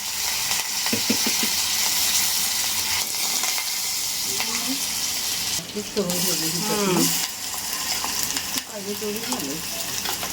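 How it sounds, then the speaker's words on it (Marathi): Asafoetida, curry leaves and spices sizzle loudly in hot oil for a tempering, a dense continuous hiss with stirring clatter, while a voice briefly speaks partway through. "मस्त फोडणी बसलेली आहे"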